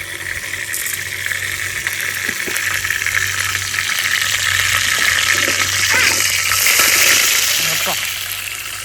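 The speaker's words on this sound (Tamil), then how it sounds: "எண்ணெய் ஊற்றி எண்ணெய் காஞ்சிருச்சு நாலே நாலு மிளகு மட்டும் போட்டுக்கணும் இப்போ" Four black peppercorns sizzling in heated oil for drumstick-leaf soup: a steady, close hiss of hot oil with light crackle, a voice speaking faintly underneath.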